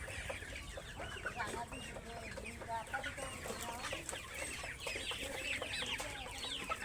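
A flock of 47-day-old Sonali hybrid chickens clucks and chatters continuously at close range, overlapping calls forming a busy, steady farmyard din with faint voices now and then.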